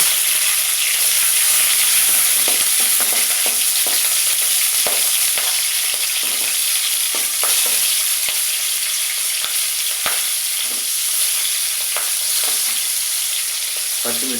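Mustard seeds and green chilies fry in hot oil for a poori potato kurma, a loud continuous sizzle and hiss dotted with sharp crackling pops throughout, with no talking.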